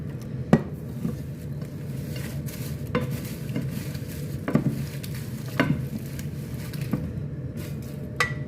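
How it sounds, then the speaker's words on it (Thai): Crispy mushrooms and chicken skin deep-frying in hot oil over high heat, a steady sizzle with occasional sharp clinks of a utensil against the pan, close by, no talking. "ทอดไฟแก่ได้เลยค่ะ"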